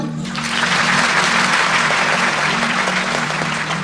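A devotional gathering audience claps loudly and steadily, a dense unbroken wash of applause that swells in after a brief start and holds at full strength.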